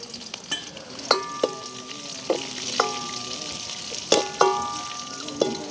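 Raisins fry in hot ghee in a pan, giving a steady close sizzle broken by several sharp clinks and scrapes of a metal spoon stirring, with no talking.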